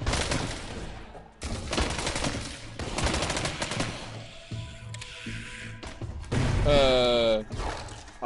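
SMG gunfire in the Arizona Sunshine VR shooter: repeated rapid bursts of automatic fire with clattering mechanical sounds between them, loud and close, with a voice talking in places.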